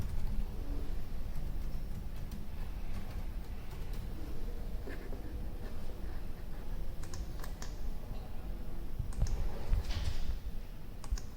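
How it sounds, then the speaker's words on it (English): Steady typing on a computer keyboard, with continuous soft key clicks running close up for the whole stretch and no talking. "now we have to type something"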